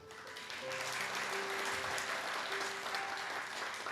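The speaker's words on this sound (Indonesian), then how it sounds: "Tepuk tangannya ini gak mantep" A Sunday worship congregation claps together in a church hall, a loud, sustained crowd applause with faint sustained tones beneath it.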